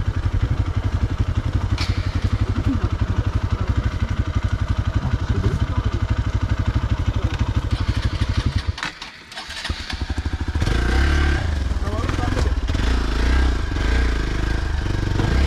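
A Hero XPulse 200 motorcycle engine revs hard and labors while struggling to climb over rocks on a hard enduro trail with the clutch burning, a steady throbbing drone that briefly drops off and then surges back loud and rough.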